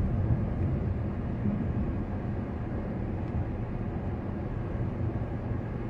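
Car engine idling after all six spark plugs were replaced, a low steady rumble at moderate level with no obvious revving.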